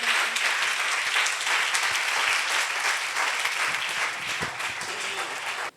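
A church congregation at a Sunday meeting claps loudly and continuously, a thick wall of applause that holds steady and then stops abruptly at the end.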